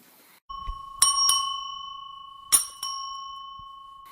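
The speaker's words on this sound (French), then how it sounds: "La cloche sonne et Max sursaute." A church bell rings clearly in a quiet space: two pairs of bright strikes, each leaving a sustained ringing tone that slowly fades.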